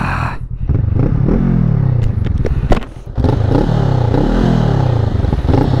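Honda CMX500 Rebel motorcycle engine idling close by with clattery mechanical ticks and a few revving swells, then dropping out briefly as it is switched off before running again.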